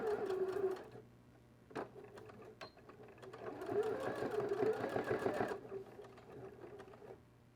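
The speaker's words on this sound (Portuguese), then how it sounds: "agora eu vou fazer uma costura bem aqui no meio," Sewing machine stitching a ribbon bow onto a fabric pouch, a close whirring run of rapid needle strokes with a short pause between bursts, and a voice speaking faintly underneath.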